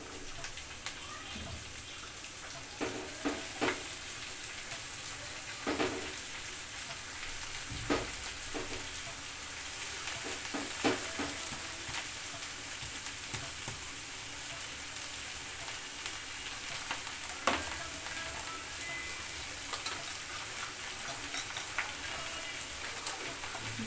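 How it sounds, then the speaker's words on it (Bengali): Cabbage sizzling in oil left from browning onions, a steady close frying hiss with occasional stirring clicks, no talking. "পেঁয়াজ ভাজা তেলের উপরেই আমি বাঁধাকপিটা দিয়ে দিব"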